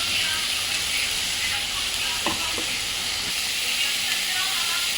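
Chopped onions and green chilli paste sizzling as they fry in a pan, a steady bright hiss with a few small crackles, faint under a voice.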